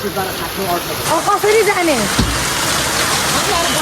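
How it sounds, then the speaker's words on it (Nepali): Heavy rain pours down at Kalinchowk in Dolakha, Nepal, in a steady, dense hiss close by, with a person speaking briefly over it. "पानी पर्यो है बेसरी"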